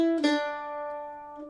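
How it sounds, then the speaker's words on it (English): A single mandolin note is picked and quickly hammered on, then rings and slowly decays, heard close and alone. "We can actually do a little hammer-on to that first note."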